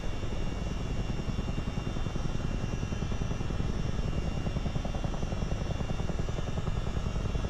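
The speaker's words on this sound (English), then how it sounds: "Choppering around in one right now." A CH-47D Chinook military helicopter in a flight simulator game flies over a river toward Lake St. Clair, with a dense, steady rotor and engine roar that holds constant throughout, and no voices.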